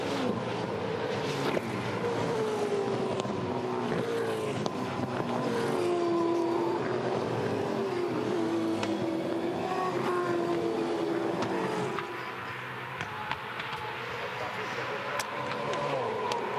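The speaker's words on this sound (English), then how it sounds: "the V8 Supercar Championship. 13 laps to go on the final day, the final race of the ITM 400 Auckland." Commentary runs over V8 Supercar racing at the 2013 ITM 400 Auckland, with engines whining and rising and falling as cars pass close, a steady loud roar underneath throughout.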